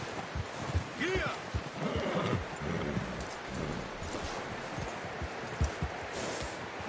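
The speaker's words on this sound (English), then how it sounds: "You should really tether that horse." Horse hooves clip-clopping at a steady pace with a short whinny, while people talk over the sound, in the video game Red Dead Redemption 2.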